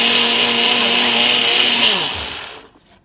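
A blender whirs loudly and steadily while blending homemade tomato sauce made from diced tomatoes, then the motor winds down and cuts off near the end.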